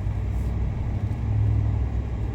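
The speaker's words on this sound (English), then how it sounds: "this car behind us is just flying." Car driving fast behind on a dirt road, a steady low engine rumble and road noise that holds constant throughout, fairly close.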